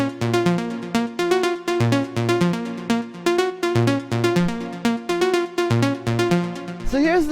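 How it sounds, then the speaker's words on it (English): Bright synth pluck riff in a progressive melodic house track at 123 BPM, short repeated plucked notes in a steady syncopated pattern over bass moving through a chord progression, loud and clear with no talking. "The first sound we have here is this little pluck"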